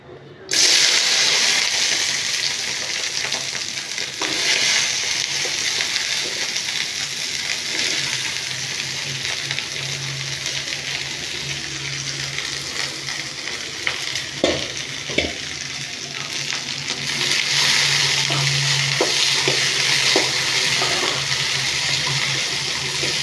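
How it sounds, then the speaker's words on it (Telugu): Okra fries in a pan for a simple okra chutney, giving a steady, close sizzle with occasional stirring scrapes while someone talks over it. "ఇప్పుడైతే బెండకాయలు వేసుకొని వేపుకుందాము"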